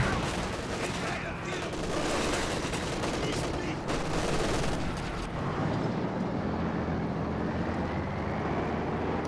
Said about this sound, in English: Is that a fresh MG42?